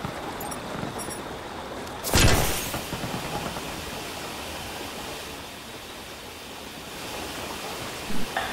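A smoke grenade hisses in a tactical shooter video game, a sudden broadband burst near 2 seconds that settles into a steady, noisy hiss filling the rest of the moment, with a brief louder spike near the end.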